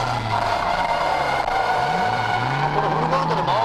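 A Nissan Silvia S13/180SX drifting with its engine revving loud and close, the tone dipping and climbing in pitch over a steady roar, with possible tyre noise mixed in.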